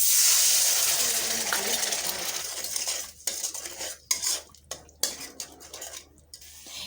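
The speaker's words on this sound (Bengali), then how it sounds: "মশলাটা কষানোর জন্য দিয়ে দিচ্ছি পানি।" A spoon stirs spice paste of chili, turmeric, coriander, cumin, garlic and ginger in a pan after water is poured in, starting with a watery hiss, then giving way to scraping strokes and sharp metallic clinks.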